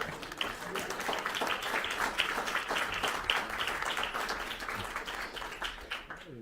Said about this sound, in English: There's a clap there.